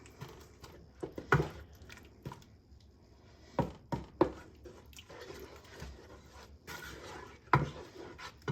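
A spoon stirs pectin into strawberry jam in a pot, giving scattered scraping and knocking strokes against the pot, some sharp and close, over about eight seconds with quieter gaps between.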